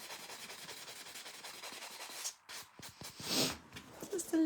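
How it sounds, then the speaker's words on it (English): A nail file shapes a glittery nail during a rose gold butterfly manicure, making close, continuous scratchy rubbing strokes that grow louder and more uneven toward the end. "This one shouldn't need too much filing though"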